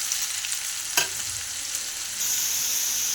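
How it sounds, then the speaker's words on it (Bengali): Potatoes and green chillies fry in a pan, giving a steady close sizzle broken by a sharp scrape of stirring, then a slightly brighter hiss. "দেখুন আলুগুলো ভাজা ভাজা হয়ে এসছে।"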